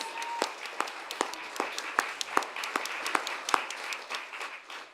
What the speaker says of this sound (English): Can we give one more round of applause to the participants today?